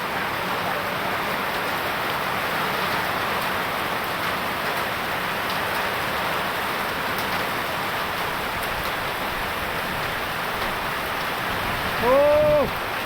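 Heavy storm rain pours steadily in Vientiane, Laos, a dense continuous hiss of drops on surfaces throughout, close and loud, with a brief voice near the end.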